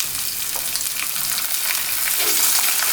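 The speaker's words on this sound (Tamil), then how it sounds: "போட்டு நல்லா வதக்கி விடுங்க." Green chilies and fresh curry leaves sauté in hot oil for curd rice, giving a steady close crackling sizzle with small pops that holds at an even loudness throughout.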